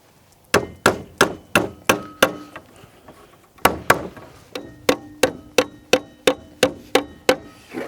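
Stiletto titanium Mini 14 hammer driving nails into wood: a steady series of sharp, ringing strikes, first in a run of about eight blows, a short pause, then another rapid run of a dozen, close and loud with no talking.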